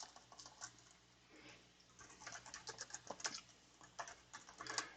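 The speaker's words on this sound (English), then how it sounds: "I'll just type it out." Rapid, uneven clicking of a computer keyboard being typed on at close range, bursts of keystrokes coming in quick runs with short pauses, fairly quiet and with no talking.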